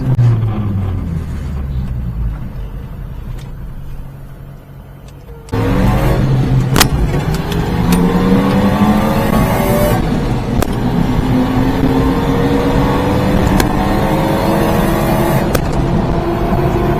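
A mini truck accelerates hard with the throttle floored, its engine climbing through several gears in rising sweeps that grow loud and close after a quieter idle at the start.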